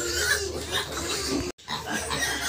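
Pigs on a backyard farm, including suckling piglets, grunt and squeal continuously nearby in steady overlapping noise, broken by one very short silence.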